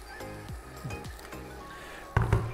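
Boiling water is poured into a pan of Greek-style cabbage and rice stewing on the stove. Soft sizzling and a few utensil clinks lead up to a brief, louder hissing splash near the end.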